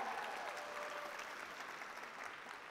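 An audience at a wellness business gathering claps for its uplines, a continuous, even patter of many hands heard faintly and at a distance.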